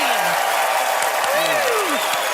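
A studio audience applauds after a watermelon magic trick, with loud, steady clapping throughout and some whoops and voices rising over it.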